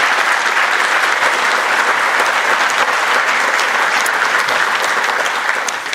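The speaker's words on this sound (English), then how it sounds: "can we please get one more round of applause for Jono White, ladies and gentlemen?" An audience at a celebration of life gives sustained, dense applause that stays loud and even throughout, with only a slight fade at the very end.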